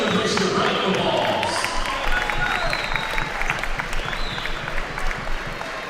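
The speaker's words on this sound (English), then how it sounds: "Let's give them a place to round of applause." Crowd applause at a school basketball championship tournament in a gym, a steady wash of clapping with scattered shouts and a few ball bounces, moderately loud throughout.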